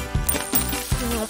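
Coins drop one after another into a piggy bank, giving several bright metallic clinks with short ringing tails, close and clear with no talk.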